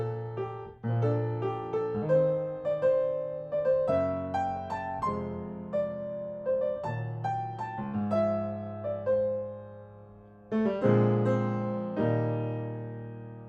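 Piano plays a high pentatonic melodic line over widely spaced, ringing chords, unhurried and resonant, heard alone and close.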